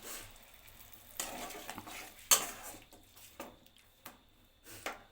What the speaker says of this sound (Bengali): আমি দিয়ে দিলাম সসের পেস্টটা এর মধ্যে